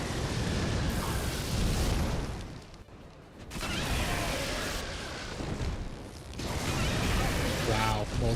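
Repeated booming blasts from an enemy's breath attacks in Dark Souls, loud and dense, with a brief dip before the roaring bursts resume.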